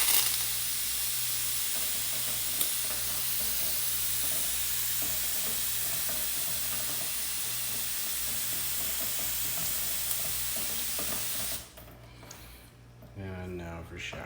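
Mist sprayer spraying water onto car panels coated with Autoglym Rapid Ceramic spray, heard as a steady broadband hiss that runs loud for about eleven seconds and then cuts off, with a brief quieter stretch at the end.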